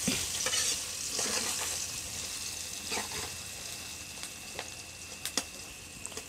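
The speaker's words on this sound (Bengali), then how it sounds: "পেঁয়াজ কাঁচামরিচ কুচি দিয়ে আমি আবারও ভেজে নিচ্ছি ভালো করে।" Chopped onion and green chili fry in a pan for a spiny gourd (kakrol) curry, giving a steady close sizzle with repeated scraping clicks of a spatula stirring through, no talking.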